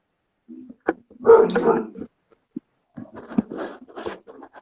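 A dog barks indoors in short bursts, a few sharp yips and whimpery barks scattered with pauses between, moderately close and alone.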